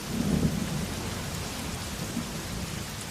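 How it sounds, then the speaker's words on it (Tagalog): Steady rain pours down with a deep, rumbling roll of thunder underneath, a dense, continuous hiss with no voices. "Uy, umuulan!"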